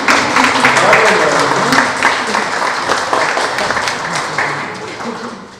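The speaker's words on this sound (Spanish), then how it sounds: "Vamos a dar un aplauso a Dios y a su familia también." Congregation at a Sunday Trinity Mass applauding, a sustained mass of clapping that slowly fades, with a voice faintly present underneath.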